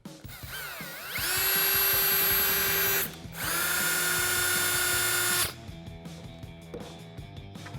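Power drill bores a hole for a rivet nut in two sustained high-pitched whining runs with a short pause between, then winds down, loud and close with no talk.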